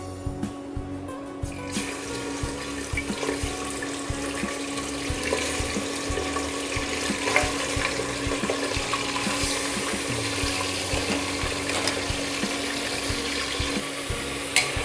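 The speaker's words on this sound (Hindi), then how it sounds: "अब जो हमारा प्याज तला हुआ तेल है, उसी में ही हम अपने गोश्त को फ्राई कर लेंगे" Mutton pieces frying in oil left from frying onions, a steady dense sizzle with watery crackle running throughout, close and fairly loud, with occasional stirring, no talk.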